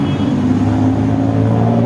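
A tuk-tuk auto-rickshaw engine rumbles close by with a steady low droning hum, loud and continuous over a breezy street background.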